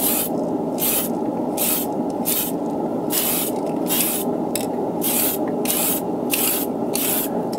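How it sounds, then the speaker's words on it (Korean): Spray paint from an aerosol can misting Gunpla plastic model parts, a steady hiss broken into about a dozen short, rhythmic bursts over a constant low background hum, close and fairly loud with no talking. "저 같은 경우에는 큰 부품을 캔 스프레이를 사용해서 뿌려 주게 됩니다."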